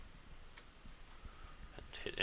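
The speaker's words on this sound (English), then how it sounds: "What I do is I'll click, and I'll click again" Computer mouse clicks, a couple of faint sharp clicks close to the mic under someone talking, with light keyboard taps near the end.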